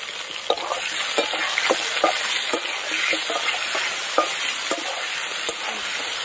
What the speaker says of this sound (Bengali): ভালো করে আলুগুলোকে কিন্তু আগে লাল করে ভেজে নিতে হবে।